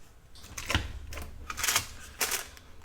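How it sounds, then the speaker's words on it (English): A craft punch pressing on vellum paper, giving a cluster of close, sharp mechanical clicks and clacks with a soft crinkle of paper. Several snapping hits come in an irregular burst over a quiet background, with no talk. "And hopefully this punch will punch it."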